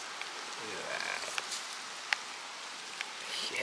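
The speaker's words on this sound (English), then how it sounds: "it's raining on us" A steady hiss of rain falls outdoors at Crowley Ridge in Arkansas during agate hunting, with scattered close drips and light ticks over the soft, even wash.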